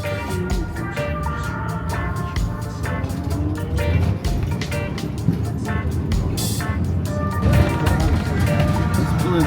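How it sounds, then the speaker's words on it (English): An electric public bus in Bermuda pulls away and speeds up quickly toward a 35 mph limit, its steady drive hum and road rumble filling the cabin at a constant level while riders talk nearby. "They're electric buses, so they speed up really quick."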